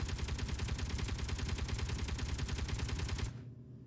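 Dense, rapid automatic gunfire from a video game, loud and continuous for about three seconds before cutting off abruptly, leaving quiet background.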